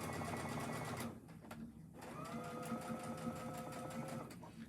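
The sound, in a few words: sewing machine stitching a quarter-inch seam on apron strap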